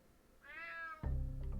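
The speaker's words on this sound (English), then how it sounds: "Damn cat." A cat in the stealth action video game Unmetal lets out a single clear, rising-and-falling meow, followed at once by a heavier low thump and rumble of in-game sound.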